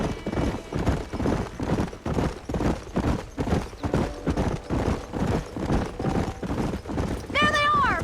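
Wild horses' hooves clip-clopping in Red Dead Redemption, a steady galloping rhythm throughout with a whinny near the end, loud and close.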